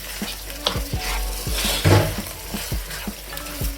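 Chicken cut into small curry pieces being stirred into vindaloo masala in a pan, giving a steady close sizzle with repeated scraping and clinking of a utensil against the metal.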